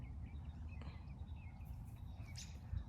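Faint birdsong outdoors on a mild spring day: scattered short chirps and whistled notes rise sporadically above a low, rumbling background, distant and quiet, with no talking.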